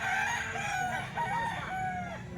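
A bull stag rooster crows close by, a few drawn-out calls with rising and falling tones over a steady background hum at a fowl sale.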